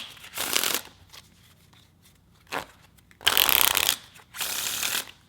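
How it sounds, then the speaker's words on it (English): A new deck of playing cards is riffle shuffled in several quick bursts, each a crisp, rapid fluttering rattle of about half a second or so, separated by short pauses and softer handling sounds, close and clear. "I flip it face up and I do another riffle shuffle"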